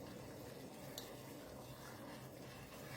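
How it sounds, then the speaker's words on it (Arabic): Sugar syrup bubbles away in a pot on the stove, making a steady, low hiss of boiling with faint simmering crackle and no talk. "بعد ما الشربات بتاعي بقى بيغلي بالشكل ده"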